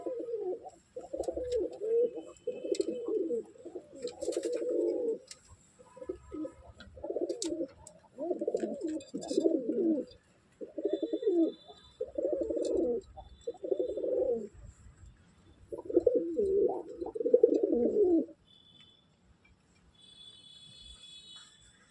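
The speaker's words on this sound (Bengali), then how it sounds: "এই টোটাল 9টা পায়রা রয়েছে।" A group of nine pigeons coo in soft, low, repeated throaty phrases. The calls come close together in clusters, then fall quiet near the end.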